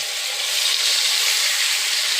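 Loud, steady sizzling of fish frying in hot oil, a bright continuous crackle close by with no talking.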